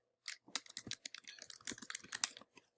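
Quick bursts of keys clacking on a computer keyboard as a search is typed, a close, irregular run of light clicks lasting a couple of seconds, with no voices.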